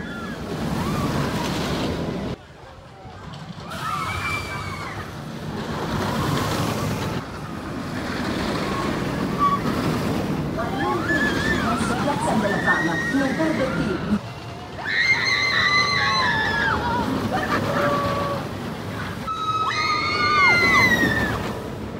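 Riding the iSpeed launched roller coaster at Mirabilandia in Italy: heavy rushing wind buffets throughout, broken by brief lulls, with riders screaming and shouting in bursts, loudest toward the end.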